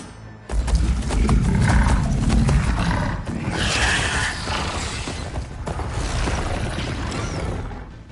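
Mechanical robot machines ridden into battle in Horizon Forbidden West, giving a loud, sustained wall of metallic creaking, grinding and roaring that fills the scene without pause.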